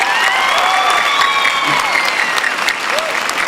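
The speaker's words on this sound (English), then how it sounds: "Let's give them a round of applause here tonight." An audience at a graduation ceremony for the class of 2011 gives loud, continuous applause from start to finish, with whoops and cheers rising over the clapping.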